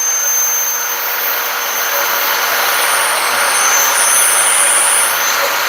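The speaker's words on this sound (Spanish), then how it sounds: "Ahora vamos a perforar." A DeWalt magnetic base drill bores a channel with a loud, continuous motor whine and a steady high-pitched tone throughout, with no voices.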